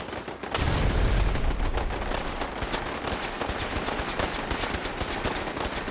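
Gunfire in the Fallout 4 video game: a loud, sustained barrage of rapid shots from several weapons, dense and continuous for the whole stretch without a break.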